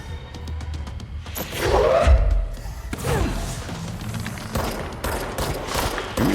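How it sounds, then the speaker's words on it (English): Gunfire from the player's weapon in the video game Control, a burst of loud rapid shots mixed with heavy thuds and crashes of combat, close and dense throughout. "Oh, it is me shooting him."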